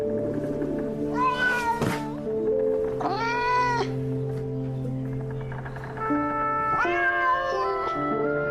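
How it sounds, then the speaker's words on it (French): A cat meows three times in drawn-out, rising and falling cries spaced a couple of seconds apart, loud and close over a steady background of music. "Le chat, Jean"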